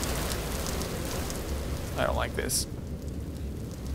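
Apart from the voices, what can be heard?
rain in a video game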